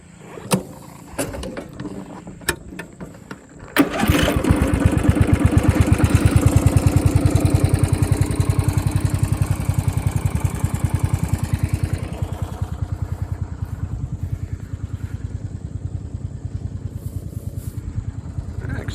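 A riding lawn mower engine cranks briefly, then catches and runs loud and steady with a rapid, even chug, close by, for the rest of the stretch.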